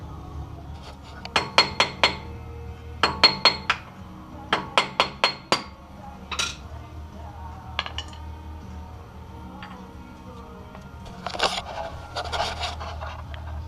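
Metal tools clink and tap on a 1996 Ford F350 2WD wheel hub, removing the dust cap and spindle nut, in rapid clustered strikes and scattered clanks over a low steady hum, no talking.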